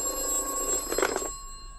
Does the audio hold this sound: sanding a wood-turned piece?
no